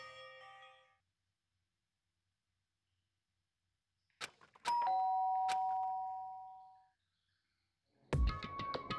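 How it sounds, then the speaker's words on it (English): Doorbell in the Danganronpa: Trigger Happy Havoc video game, a bright two-tone chime ringing out with a long sustained decay after a few sharp clicks, preceded by a brief tone and followed by another burst of game sound. "did I hear the doorbell?"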